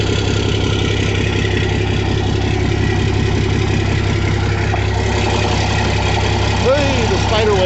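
A 1957 Golden Eagle bus engine idles cold with a steady low rumble and even throb, continuous and close throughout, with a person talking over it.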